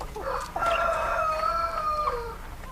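A rooster crows in a long, loud, wavering call, preceded by a few short clucks, close and alone with no talk.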